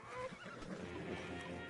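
A horse in the Red Dead video game lets out a whinnying neigh, heard up close and fairly soft, with faint hoof clops underneath.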